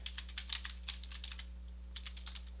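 Quick, light keystrokes on a computer keyboard while typing code, coming in irregular bursts with a short pause midway, close and quiet over a steady low hum.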